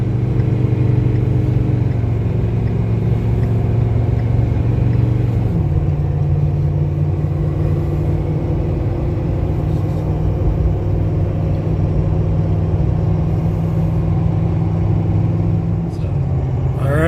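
A Ford 6.7 Powerstroke diesel pickup with a new boost pipe pulls a heavy trailer of about 14,000 pounds while merging into traffic. Its engine drones loud and steady, shifting pitch midway as it gains speed.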